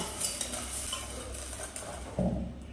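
A spoon scrapes and clinks around a bowl while mixing dried red chillies with salt for a raw tamarind stew, light metallic taps scattered through and a firmer knock near the end.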